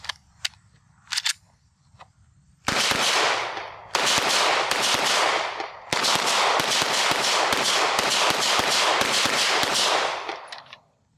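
A Canik Mete SFT pistol fires a magazine of factory reman ammo: a few sharp single shots, then loud rapid strings of closely spaced reports with short gaps between volleys.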